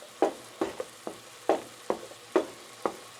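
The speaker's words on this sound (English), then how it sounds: "I'm going to dump my eggs" Eggs being pushed around a greased pan beside vegetables, with scrambling scrapes arriving in sharp, uneven bursts about every half second over a soft, steady sizzle.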